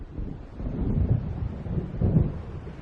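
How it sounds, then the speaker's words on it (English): A thunderstorm builds in the video game Alan Wake, with low rolling rumbles of thunder swelling twice over steady wind and rain noise, fairly loud and with no voices. "It seems there's a storm coming."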